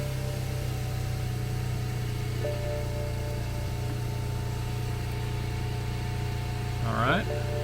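BMW car engine running at a steady idle, a constant low hum throughout, close by, with a brief higher chirp near the end.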